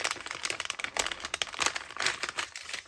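Crinkling of a plastic gift bag being opened by hand: dense, continuous rustling and crackling at close range with irregular sharp bursts, no talk over it.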